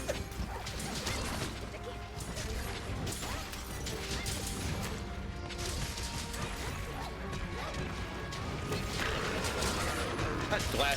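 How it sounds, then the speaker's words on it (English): Sharp crashing, glass-like shattering hits from a weapon striking in the action game Monster Hunter Rise, repeating amid constant clanking battle noise with a voice talking over it. "That glass shattering sound of my weapon is just about as bad as it is on Zelda"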